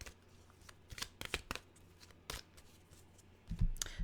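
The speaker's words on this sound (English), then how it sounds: "Oh, the deck didn't want to be shuffled too much there." A deck of oracle cards is shuffled close by in a series of quick, crisp riffling bursts with short pauses between, ending in a louder, fuller flurry near the end.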